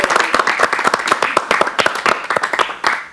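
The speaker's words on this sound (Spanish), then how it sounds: "Eso merece un aplauso." An audience at a religious gathering claps in a brisk, uneven burst of sharp, close hand claps that runs for about three seconds.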